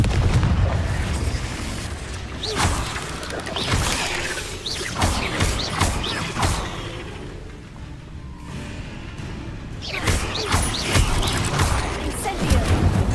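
Explosive Confringo spell blasts in Hogwarts Legacy gameplay, a run of loud booming bursts and whooshes repeating across the stretch with brief lulls between impacts.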